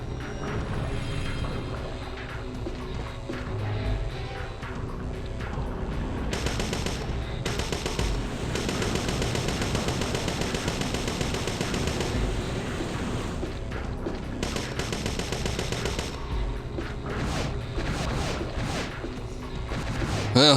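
Gunfire in the survival horror game Parasite Eve II, rapid repeated shots and crashing impacts running continuously under game music and effects, loud and dense, with occasional sharper bursts.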